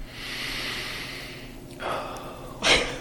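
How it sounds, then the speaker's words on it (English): A person draws in deep, audible breaths: a sharp nasal inhale, then a second, louder and quicker intake. Faint steady room hum sits underneath, and no one speaks. "take a deep breath."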